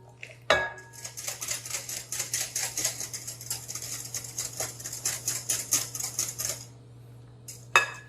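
Eggs and warm milk are stirred together in a bowl for a passion fruit pot de crème, the whisk clinking and tapping steadily against the bowl up close, with a steady hum underneath and no talking.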